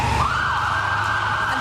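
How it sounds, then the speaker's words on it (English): An ambulance siren wails loudly and steadily as the vehicle pulls away, its tone sliding upward and then holding. Traffic rumbles underneath, and no one speaks. "As you can see from the ambulance pulling away"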